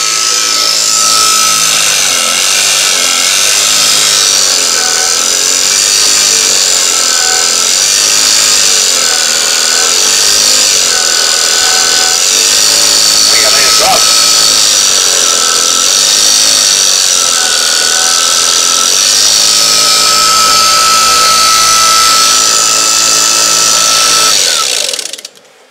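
A split-phase converter motor on its first run gives a loud, steady whine with layered tonal hum, running continuously and close for about twenty-five seconds before cutting off.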